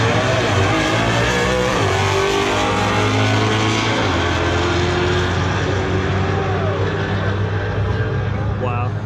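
A Fox body Mustang and a 2018 Mustang GT race at a muscle car show, their loud engines roaring steadily with crowd noise and talk over the top.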